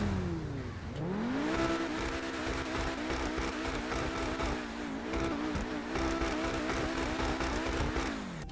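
A new Contract DLC car from GTA Online revs up after a brief dip, then holds a loud, sustained engine drone with repeated rising and falling throttle surges close to the listener.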